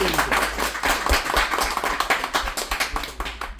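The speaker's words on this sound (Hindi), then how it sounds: "तो इनके लिए जो है तालियां जितने भी करें तो वो कम है" An audience claps at a certificate distribution ceremony, giving steady, close applause with distinct individual hand claps all the way through.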